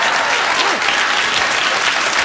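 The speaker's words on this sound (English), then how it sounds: "What are you clapping for?" A late-night television studio audience breaks into sustained, dense applause, loud and steady throughout, with no speech over it.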